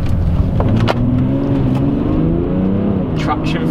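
A BMW 335d F30 diesel accelerates hard, its engine a loud, dense rising roar heard from inside the car, with someone talking over it.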